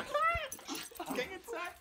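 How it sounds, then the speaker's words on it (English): A dog whimpers and yips in short, high, wavering cries close by, overlapping with excited human voices. "I can hear a dog."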